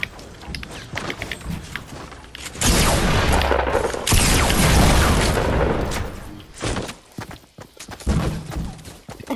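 Rocket explosion in Fortnite: a loud, dense burst of booming blast noise fills the middle seconds, preceded and followed by scattered thuds, cracks and gunfire-like impacts.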